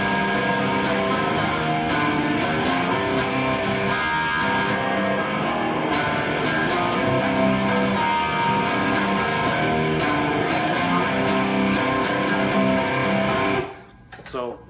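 Distorted electric guitar plays the chorus of a song, power chords an octave above the verse chords, loud, dense and sustained before cutting off abruptly near the end.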